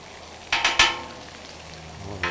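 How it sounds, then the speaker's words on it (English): Pork bacon sizzles on a Blackstone griddle, a soft steady frying hiss broken by a few short crackling bursts near the start and again at the end. "that is our sizzling pork bacon right there"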